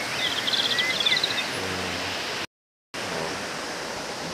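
A river beside bamboo and shade trees in a rural bathing and laundry spot rushes with a steady, broadband wash of flowing water, interrupted by a brief dropout partway through, with no talk.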